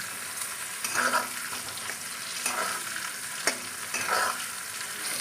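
Eggplant pieces stirred and fried in hot oil for a Bengali foli fish curry, a steady sizzle broken by several scraping stirs at irregular intervals, close and moderately loud, with no talking.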